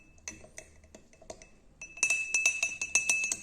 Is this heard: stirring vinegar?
yes